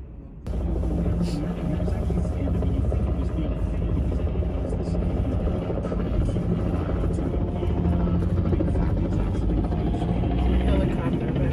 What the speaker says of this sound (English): Helicopter back there.